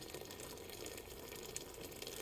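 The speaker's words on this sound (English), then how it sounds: "I'm gonna put a good set of water to boil it down" Water runs steadily into a pot to boil a large cut of meat in a home kitchen, a faint, even rushing hiss with no talk.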